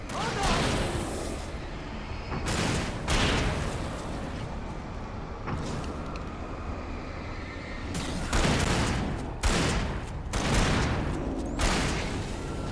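Gunfire in the Alan Wake video game, loud bursts of rapid shots and booming blasts coming in waves with brief pauses between, while players shout over the action.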